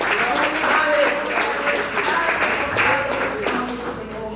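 A church congregation claps steadily in a reverberant hall during worship, the applause dense and continuous with voices and music mixed in underneath.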